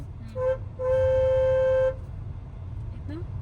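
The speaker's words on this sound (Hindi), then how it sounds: "यहाँ पे लॉन्ग हॉर्न दे दिया करिए" A car horn sounds in a short toot, then a longer sustained honk of about a second, heard from inside a car while driving through narrow streets, with a voice speaking around it over low engine hum.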